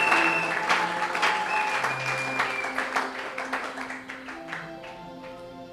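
A church congregation applauds together during a French-language Sunday service, the clapping dense and sustained at first, then thinning into looser, more separated claps as it fades.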